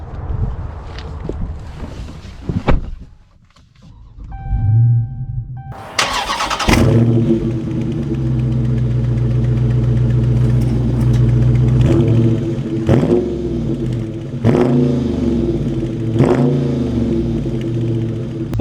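A 2023 Dodge Charger Scat Pack Widebody fires up with a sharp bark, then settles into a loud, steady rumbling engine note close by, with a few throttle blips rising over the drone toward the end.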